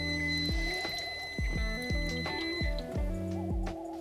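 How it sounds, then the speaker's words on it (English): Water is drained from canned tomatoes and chilies, heard as a run of squishy, gurgling drips and glugs at an uneven rhythm, close by, over a steady background hum. "I'm gonna drain this water out"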